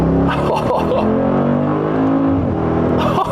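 A car accelerating hard, its engine note climbing steadily in a sustained, loud roar from inside the cabin, with a brief gear-change dip near the end.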